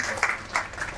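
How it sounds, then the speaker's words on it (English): A brief burst of audience applause at a conference, soft, fairly distant clapping with two slight swells over about a second. "One round of applause for Sandeep."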